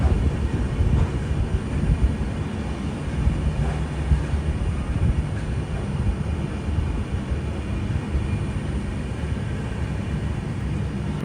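A Humsafar Express passenger train running on North Central Railway tracks beyond Delhi, heard as a steady loud rumble and rattle of wheels on rails throughout, with no talking.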